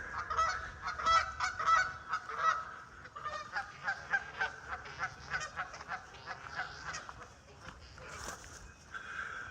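A flock of geese honks continuously and rhythmically along the Chattahoochee River in spring, many calls overlapping in a steady chorus nearby.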